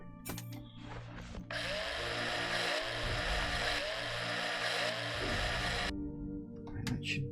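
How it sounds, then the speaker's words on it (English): A harsh, steady, broadband whirring drone from a mining drill used on an asteroid rock in the space survival game Breathedge, running for about four and a half seconds and then cutting off, loud and continuous. "Oh, drill. Wrong one."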